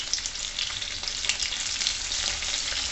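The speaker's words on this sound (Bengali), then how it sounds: "এই আলুটাকে প্রথম এই মশলার সাথে আমি ভেজে তুলে নেব" Par-boiled potatoes fry with spices in a pan, giving a steady, close, continuous sizzle and crackle that holds at an even loudness throughout, with no talking.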